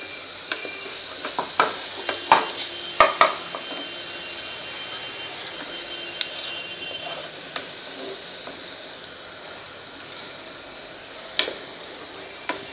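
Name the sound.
sautéing ground spice paste in oil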